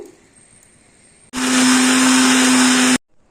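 A mixer grinder roars to life loud and close, grinding ginger, garlic, cashews, pepper, cloves and cinnamon into masala in one steady high whine for under two seconds before stopping abruptly.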